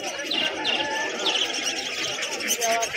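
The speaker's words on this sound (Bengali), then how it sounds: "এখানে কিছু দেশি পায়রা রয়েছে" Native pigeons at a busy pigeon market give near, continuous chirps and soft coos, with faint crowd chatter running underneath throughout.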